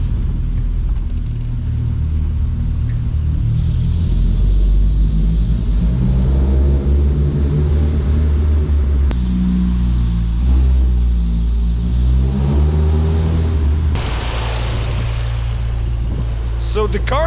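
A classic UK car engine runs with a low rumble, rising and falling as it revs several times, steady and fairly loud throughout.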